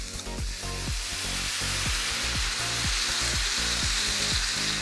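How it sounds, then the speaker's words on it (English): Beef and broccoli stir-fry in a single pan with sauce, a loud, dense sizzle rushing under a series of rhythmic scrapes as a utensil stirs the bubbling mixture. "Just gonna stir this up just a little bit."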